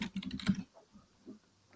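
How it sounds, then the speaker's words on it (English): A loud computer keyboard clatters close by in a quick burst of keystrokes, followed by a few scattered, quieter clicks. "Porpoise, your keyboard is very loud right now."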